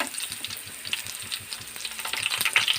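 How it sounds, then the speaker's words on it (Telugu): Garlic sizzles steadily in a hot pan while a spoon stirs it, giving a continuous close crackle with regular soft scraping taps throughout. "వేసుకుని ఒక స్పూన్ తోటి కొంచెం బాగా వేగేలాగా చేసుకొని"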